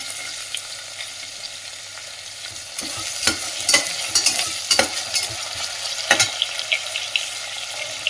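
Chopped capsicum is stir-fried in a pan with onion, the quiet sizzle broken by a run of sharp spatula scrapes and clatters that grow busier partway through.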